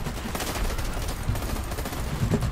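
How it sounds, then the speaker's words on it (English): Rapid bursts of gunfire in the shooter game Dirty Bomb, including three-round bursts, crackle loudly and continuously over a dense, noisy battle mix. "I like the 3-round burst"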